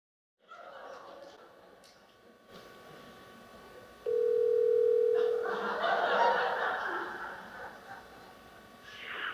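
A home telephone sounds one steady tone while a wedding crowd laughs and chuckles around it.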